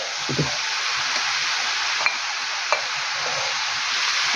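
Cabbage stewing in a pan, a steady soft sizzle with a few scraping stirs and light clinks, close and even, no talking.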